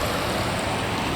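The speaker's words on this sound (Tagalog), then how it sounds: "malakas ang pagpasok ng tubig" Steady rushing water with a constant hiss, like heavy rain pouring and flowing in, unbroken throughout, on the third day of rain.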